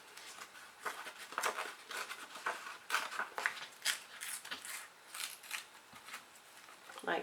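Scissors trimming excess paper from a junk-mail political flier, a quick series of crisp snips and rustles close by, irregular in rhythm with no talk.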